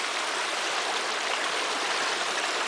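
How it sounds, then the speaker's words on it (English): Water from a restored brook trout stream pours into a rock-lined plunge pool, a loud, steady rushing flow with no pauses and no talk. "having it so the water creates a plunge pool, which I set rocks along the back of it"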